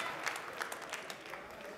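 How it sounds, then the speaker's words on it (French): A brief, faint round of steady clapping from a crowd at a French latte art championship final, honoring a finalist. "Je vous demande de l'applaudir encore une fois."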